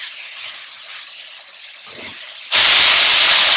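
Small cut-up venison pieces hit a hot pan, a quiet background hiss that abruptly bursts into a loud, steady, close sizzle partway through.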